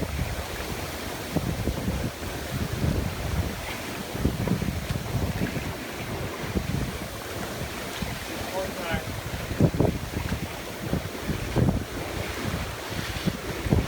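A 1973 Ta Chiao CT41 sailboat under sail at about seven knots, with loud wind buffeting and rushing waves washing continuously along the hull, and voices occasionally speaking over it.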